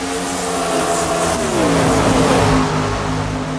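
Race car engines in a CMC Sportsman Series race at Atlanta Motor Speedway, loud and close, revving and sweeping upward in pitch as cars roar past one after another, with no talk.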